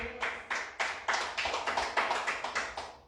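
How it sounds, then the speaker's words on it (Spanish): A church congregation claps for God during a sermon, a small group in a quick, even rhythm, a steady run of sharp hand claps close by with no talking. "Dele fuerte aplauso al Señor."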